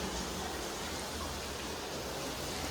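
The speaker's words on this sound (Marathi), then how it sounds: "इतका डेंजर पाऊस आहे" Heavy monsoon rain falling steadily, a dense, even hiss of downpour with no distinct drops or pauses, fairly faint and continuous, outdoors around a housing society with flooded ground.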